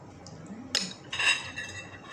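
Spoon and fork clink against a bowl of hot beef stew, a few sharp metallic taps and scrapes, close and fairly quiet.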